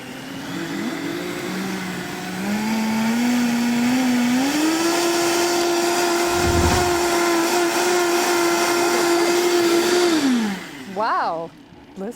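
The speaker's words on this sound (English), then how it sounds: "Let's just blend it for 30 seconds on a high-speed blender." A high-speed blender whirs through broccoli soup with bone broth, a loud steady motor drone that climbs in pitch once it gets going, holds, then winds down and stops.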